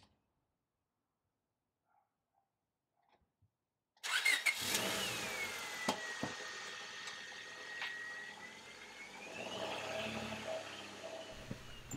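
After a few seconds of near silence, a lowered Honda Civic's engine suddenly starts up close by and keeps running with a steady hum and a faint rising whine as the car moves.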